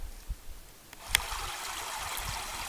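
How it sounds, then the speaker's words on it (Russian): The Molochka river flows beside a road on a hike toward Mount Otroob, giving a steady, moderately distant rush of water with a few faint footstep-like thumps. "Справа от дороги течет река Молочка."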